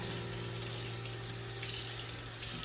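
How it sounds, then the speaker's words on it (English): Tap water runs steadily into a sink while vegetables are rinsed, a constant soft splashing hiss with a faint hum underneath and no talking. "I want to get these veggies all washed up first"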